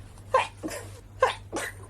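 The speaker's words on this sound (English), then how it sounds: "Oh my god, I can't stop sneezing." Two quick sneezes from dust, each a sharp intake followed by a burst of breath, close and fairly loud with short quiet gaps between them.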